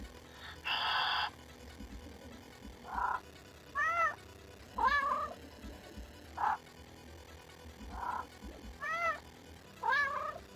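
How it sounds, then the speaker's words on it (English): A cat meows repeatedly indoors, several distinct drawn-out meows at irregular intervals over about ten seconds, close and moderately loud, with a couple of brief noises between the calls and no speech. "Come on, purr again."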